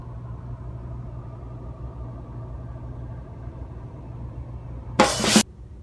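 Car traffic idles inside an LTO office compound, a low, steady engine rumble that carries on without a break, cut by one brief, sharp, loud burst near the end.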